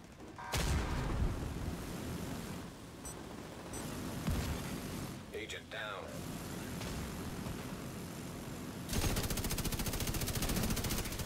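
Sustained weapon fire at an ammo barrel in a shooter video game, a dense, loud barrage of rapid automatic shots with booming blasts that runs almost without pause, briefly dips, then swells again at the end.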